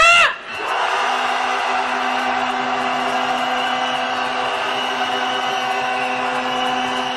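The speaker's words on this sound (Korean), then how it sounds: "함성" Candlelight protest marchers shout a long collective roar toward the Japanese embassy, a massed sustained yell rising after a brief opening burst, loud and steady throughout.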